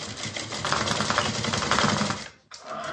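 A sewing machine back stitching a bag runs in a fast, close, even mechanical rattle for about two seconds. It stops briefly, then starts again. No talk.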